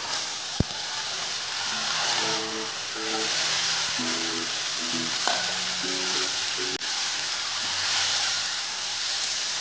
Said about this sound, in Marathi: आता आपण यामध्ये हे जे मॅरिनेशन करून घेतलेलं होतं आपण मटन खिमा ते टाकूया